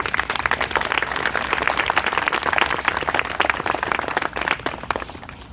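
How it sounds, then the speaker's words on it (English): An audience at an obesity awareness walk event claps steadily and fairly loudly for several seconds, a dense patter of many hands that tapers slightly at the end. "you guys clap"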